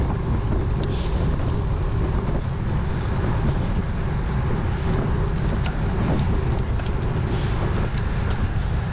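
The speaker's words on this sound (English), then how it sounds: "and then right here with the crosswind" Crosswind buffeting a cyclist during a Cat 4/5 spring road race, a continuous loud roaring rush of wind across the microphone with no voices.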